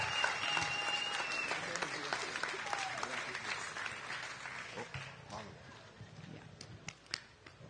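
An outdoor unity gathering crowd applauds, clapping and scattered cheers that thin out over time, with a few voices and sharp individual claps toward the end.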